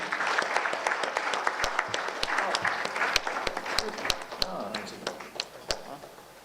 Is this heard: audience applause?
yes